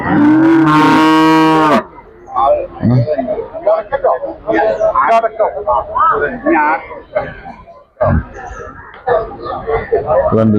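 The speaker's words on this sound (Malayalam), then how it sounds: "നല്ല നല്ല പശുക്കളാണുള്ളത്" A milk cow at the Chattiparamba cattle market lets out one loud, drawn-out moo up close, followed by people talking among the market crowd.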